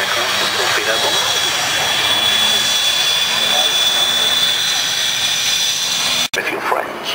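Jet aircraft, a Hawker Hunter, passing at the Duxford air show: a loud, steady roar with a high whine that fills the clip, cutting off abruptly near the end.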